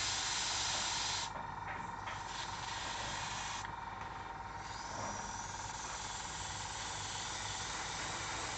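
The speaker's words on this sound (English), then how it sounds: "I'm really enjoying using the airbrush each time I use it" An airbrush sprays paint onto a 1/16 scale Tamiya JS-2 RC tank model, a continuous close airy hiss with brief dips and gaps as the trigger eases.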